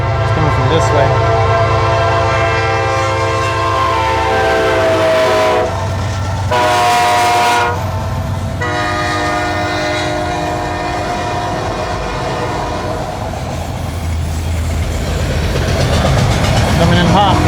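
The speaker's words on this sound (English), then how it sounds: "Looks like another train's coming." A train passes close and loud, its horn blaring in long tones over a heavy rumble and rattling wagons, while people talk nearby.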